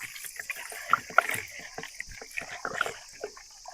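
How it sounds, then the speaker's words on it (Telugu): Raw chicken being washed by hand in a vessel of water in a village kitchen: sloshing, splashing and dripping with irregular bursts, close by, with a few faint clinks and a thin steady hiss behind. "ఇలా నీట్గా కడుక్కోవాలి చికెన్"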